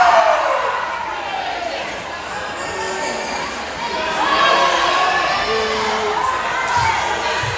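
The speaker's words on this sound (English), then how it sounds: "Both crowds chanting constantly." Crowds at a high school volleyball playoff match between Beeville and Sinton chant and cheer in a sustained roar that swells and dips, filling a gym from a distance.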